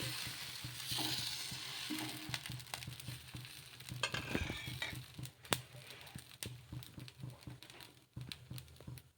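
Dosa batter made with wheat semolina is spread on a hot pan and gives off a soft, faint sizzle, broken by scattered light scraping and tapping as it is spread.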